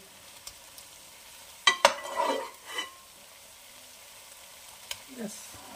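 Spiced cauliflower in a frying pan is stirred over low flame, with a few sharp scrapes and clinks of the spoon against the pan over a faint, soft sizzle.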